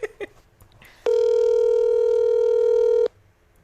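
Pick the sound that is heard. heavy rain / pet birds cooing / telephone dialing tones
telephone dialing tones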